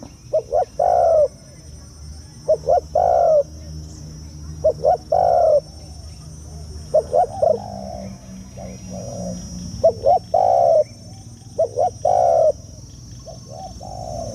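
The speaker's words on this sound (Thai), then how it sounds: "นกเสียงกลางครับผมพี่น้อง" A spotted dove calls in the wild, giving repeated groups of soft, rolling coos at a moderate distance, with a faint steady insect-like hum and distant ambient noise behind it.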